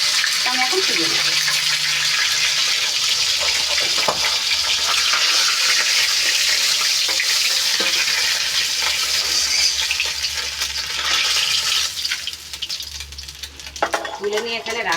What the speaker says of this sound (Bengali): আমি যে মাছটা ভাজতে দিয়েছিলাম মাছের মাথা চচ্চড়ি বানানোর জন্য